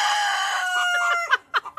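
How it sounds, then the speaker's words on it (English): Hens cluck and squabble over shared nesting boxes in a coop, a loud run of overlapping harmonic squawks and calls that breaks into shorter clucking bursts near the end. "The hens are bickering over their nesting boxes."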